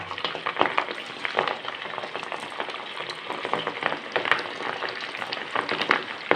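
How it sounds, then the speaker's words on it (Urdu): Potato koftas frying in hot ghee over slow to medium heat, a continuous crackling sizzle with dense popping bursts, close and fairly loud, with no voices. "گھی ہمارا گرم ہو گیا ہے، اب اس میں ہم کفتے ڈالیں گے آرام آرام سے"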